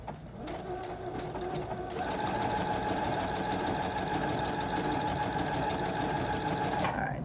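A sewing machine with an overcasting foot runs a zigzag stitch at 2.5 length and 5 width along a fabric edge, whirring continuously and close up after a brief start.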